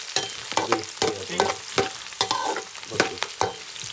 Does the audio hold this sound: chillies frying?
yes